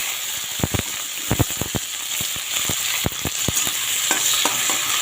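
Chopped onions and green chillies frying in oil with nigella seeds, a steady close hiss punctuated by sharp spattering pops and stirring clicks, with no talking.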